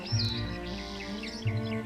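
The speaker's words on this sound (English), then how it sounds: "The sausages also tempt Mayer's parrots." Meyer's parrots feeding on sausage tree fruit give sharp, high chirping calls, a couple of brief close squawks over a low background hum, separated by short pauses.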